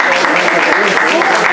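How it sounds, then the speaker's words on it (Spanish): A church crowd from the Cristo Sacerdote parish claps in steady, dense applause, loud and close, filling the whole moment. "un aplauso para los de Cristo Sacerdote que están acá"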